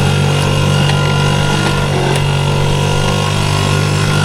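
Yamaha PW80 dirt bike engine running on a trail ride, a loud, close, steady buzzing drone with no talk over it.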